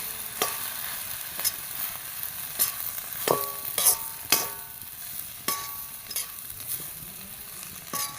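Bitter gourd thoran frying in a pan under a steady sizzle, with repeated scraping and knocking of a spoon as it is stirred, close and continuous with no voices.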